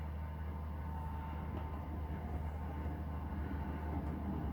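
A steady low rumble and rolling clatter of model train wheels on a layout's track continues evenly throughout, with no voices.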